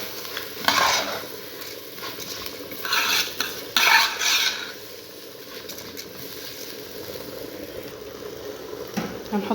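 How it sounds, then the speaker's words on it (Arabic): Rice and vermicelli get stirred in a pot with salt, a spoon scraping and clinking against the metal in bursts over a soft background sizzle, close by. "نقلب الرز كويس كده مع الشعريه"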